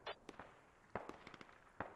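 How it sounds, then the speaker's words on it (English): Grenades going off on a rooftop in the military shooter game Squad: a series of sharp, distant cracks and pops arriving at irregular intervals. Each burst is short and fairly faint, with quiet gaps between them. "Grenade goes off on the roof."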